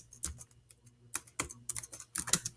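Typing on a computer keyboard, a quick irregular patter of close key clicks in short bursts with brief pauses, no voices.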